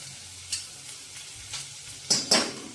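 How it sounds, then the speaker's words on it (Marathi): Kurdu greens tossed onto steamed onion in a pan, with faint sizzling under a few scraping stirs and two louder clattering strokes near the end. "थोडा वाफवून घेतला कांदा की आपण त्याच्यावर भाजी टाकणार आहोत."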